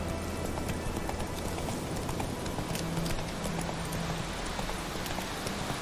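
Hooves of a galloping horse in The Witcher 3: Wild Hunt clip-clop in a quick, steady rhythm over an ambient bed, moderately loud and close, with no voices over them.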